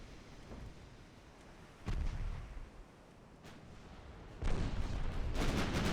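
Warship guns in the naval game Ultimate Admiral Dreadnoughts fire at an enemy destroyer: two separated heavy booms, the second longer and more rumbling, against a quiet low background.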